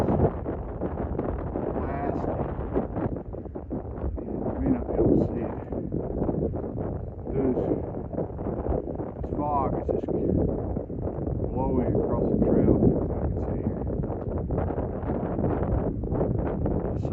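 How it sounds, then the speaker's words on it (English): Cold wind gusts hard across a mountain trail on the Appalachian Trail near Dragon's Tooth. It buffets the microphone as a loud, continuous roar while a hiker talks throughout. "the wind"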